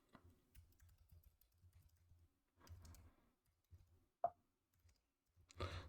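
Keys tapped on a computer keyboard during a server software upgrade, soft and close, in short irregular clusters of clicks with pauses between and one sharper keystroke near the end.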